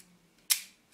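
A single sharp shutter release from a Rolleicord IV twin-lens camera with a Xenar 75mm lens, close and crisp, followed by a fainter second click, in a quiet room.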